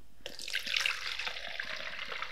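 Film developer liquid, Rodinal used for FP4+ film, is poured into a container in a steady, splashing stream that runs continuously for a couple of seconds, close and fairly loud with no talking.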